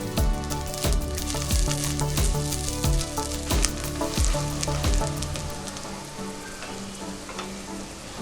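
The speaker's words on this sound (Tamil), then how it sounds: "சிறிதா நறுக்கின 2 பெரிய வெங்காயம் சேர்த்துக்கிறேன்." Finely chopped onions hit hot oil in a clay pot, a loud frying sizzle with rhythmic spoon-stirring knocks that gradually settles into a softer, steadier hiss.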